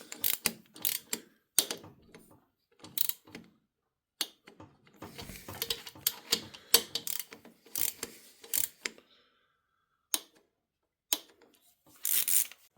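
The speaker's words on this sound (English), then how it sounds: "I'll torque these down to 18 foot-pounds." A ratchet wrench clicks in short, separated bursts while bolts on a Harley-Davidson Twin Cam 98 engine top end are torqued, with quiet gaps between sets of close, sharp ratcheting.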